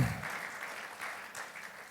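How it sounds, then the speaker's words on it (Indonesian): Congregation clapping during a Sunday church worship service, a steady wash of many hands filling the room for about two seconds with no voices over it. "Berikan tepuk tangan bagi Tuhan."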